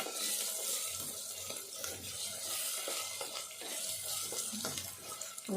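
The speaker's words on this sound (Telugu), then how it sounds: "ఇప్పుడు ఇది కూడా కొద్దిసేపు వేగాలి అదే పచ్చివాసన పోయేదాకా వేంపాలి" Chana dal and tomato fry in a pan with a steady, close hiss, broken by scraping clatter from stirring; no one speaks.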